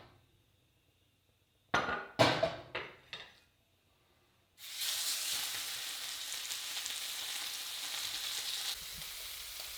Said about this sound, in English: You want to make sure that your steak sizzles the moment it hits the pan.